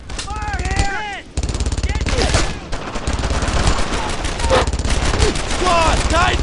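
Dense, loud gunfire in the World War II shooter Brothers in Arms 2: rapid machine-gun bursts and overlapping rifle shots crackling continuously up close, with soldiers shouting throughout.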